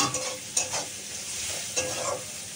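Onions sizzling in a pan with a few scraping stirs of a spoon, steady frying hiss underneath, no voices.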